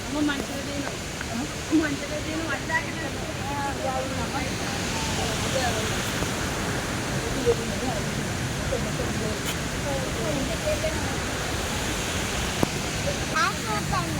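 Broad, steady roar of rushing water at Kuntala waterfall, loud and continuous across the whole stretch, with faint voices underneath.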